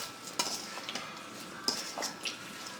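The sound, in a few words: mixing seasoned oxtail by hand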